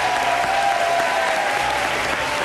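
A studio audience at a Brazilian television show applauds and cheers in a steady, dense roar that holds loud and unbroken throughout, with a faint tone running underneath.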